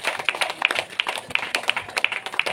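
A small group at an evening church feast service claps unevenly in a room, producing scattered sharp hand claps with faint background murmur.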